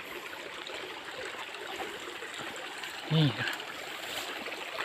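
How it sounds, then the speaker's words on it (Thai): A forest stream runs steadily through the whole stretch on a mountain trail in Kamphaeng Phet, Thailand, a constant watery hiss with a brief voice cutting in near the end. "ทางน้ำไหล"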